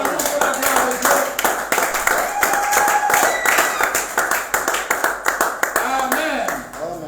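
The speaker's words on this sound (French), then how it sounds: "Acclamons pour la gloire de Dieu." A church congregation claps and cheers together in lively, steady applause, with voices shouting and calling out among the clapping, fading slightly at the end.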